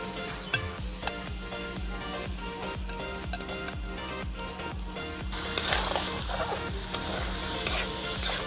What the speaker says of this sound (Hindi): लो फ्लेम पे रखेंगे हम और बड़ी आस्ता आस्ता इसको दाल को फ्राई करेंगे।